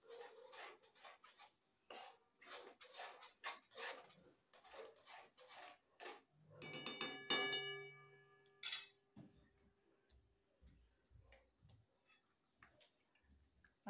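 Ground masala paste for misal being stirred and sautéed in a pan, soft scraping and rasping strokes of a spoon in an irregular rhythm, fairly quiet, with a few clinks of metal and no talking.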